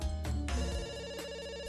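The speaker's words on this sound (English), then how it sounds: "I was sulking when the phone rang again." A telephone in the video game WILL: A Wonderful World rings with a steady electronic tone that repeats and holds throughout. The ring is moderately loud and sounds alone, with no voices.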